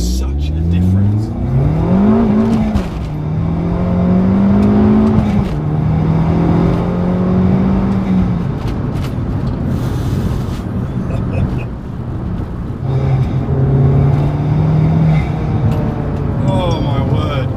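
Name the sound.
Abarth 595 Competizione engine accelerating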